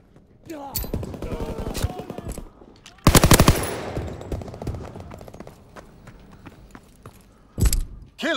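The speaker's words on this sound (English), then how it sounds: "Fighter pilot inbound, strafing the target." Fighter plane strafing run in the Call of Duty WWII video game, bursts of rapid machine-gun fire with a dense loud volley in the middle and a final burst, mixed with other game noise and some voice.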